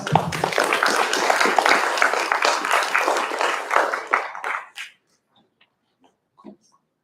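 An audience at a county spelling bee applauds, a loud burst of many hands clapping together for about five seconds before it fades to near silence with a couple of faint knocks.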